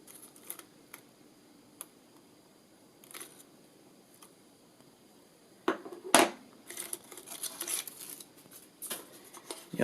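Paper packing crinkles and rustles as it is unwrapped from around a firearm magwell, with sparse soft crackles at first and then a denser burst of crumpling and tearing close up.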